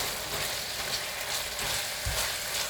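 Lamb mince and chickpea curry bubbling and sizzling uncovered in a pan, a steady broadband hiss of frying with occasional soft stirring knocks, close and continuous with no talking.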